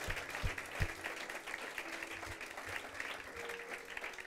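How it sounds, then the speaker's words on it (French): Applause from a church congregation during a worship service, steady broadband clapping that carries through the whole stretch at moderate level, with a few scattered voices mixed in. "Comment est-ce qu'on peut l'applaudir?"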